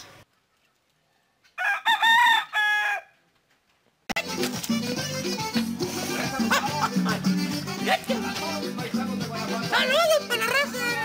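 A rooster crows a few times, close and loud, in a rural spot near Santa María de Guadalupe, Ocampo; then loud music with voices abruptly takes over the rest.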